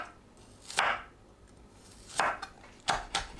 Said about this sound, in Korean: 그동안 마늘을 편으로 썰어줍니다